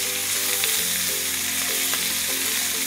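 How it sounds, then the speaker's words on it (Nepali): Chicken chow mein noodles stir-fried in a hot pan, giving a steady, dense sizzle with a few light stirring knocks, close and continuous. "र यसरी चलाउँदै 1-2 मिनेट को लागि हामी फ्राई गरौ"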